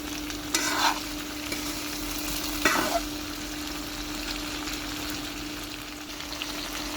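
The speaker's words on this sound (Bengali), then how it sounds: "এটা আমি সয়াবিন তেল দিলাম ভালো করে ভেজে নিব" Eggplant fries in hot soybean oil with a steady, close crackling sizzle, broken twice by short bursts of stirring or turning in the pan.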